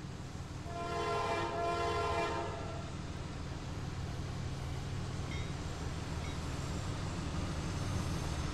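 A simulated CSX freight train in Trainz Railroad Simulator 2019 crosses a long lake, giving a steady low rumble with a clear multi-tone horn blast for about two seconds near the start.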